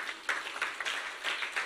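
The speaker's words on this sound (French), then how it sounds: "On peut l'applaudir." A church congregation gives brief applause for Brother Mathias, a soft patter of many hands clapping, fairly distant and fading in short bursts.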